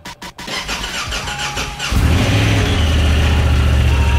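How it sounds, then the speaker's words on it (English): A Honda Talon side-by-side cranks with a few sharp starter bursts, catches, and settles into a loud, close engine running with rising revs and a steady rumble. "we gotta start her up, get the engine warm"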